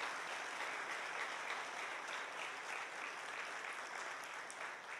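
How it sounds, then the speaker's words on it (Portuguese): A church congregation claps continuously for several seconds, a faint, even wash of many hands heard from a distance without any standout voices. "Se é para aplaudir, aplauda com alegria"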